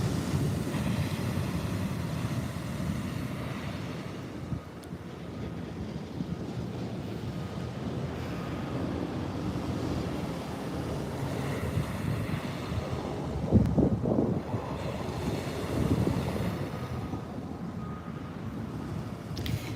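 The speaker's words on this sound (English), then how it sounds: "these waves are way bigger than they were this morning" Small ocean waves roll onto a beach, a low steady wash of surf mixed with wind buffeting the microphone, with a slightly stronger surge near the middle and no talk.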